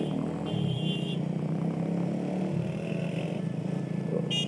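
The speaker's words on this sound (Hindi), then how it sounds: "मेरे दो दोस्त जाना मुजम्मल और मियाँ फैसल साहब अपनी बाइक लेके जा रहे हैं।" Motorbikes ridden along a road during an Independence Day ride, engines droning steadily close by with a rising rev partway through and road clatter, no talk.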